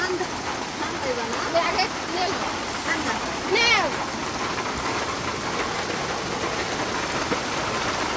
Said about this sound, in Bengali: বাইরে প্রচুর বৃষ্টি নামছে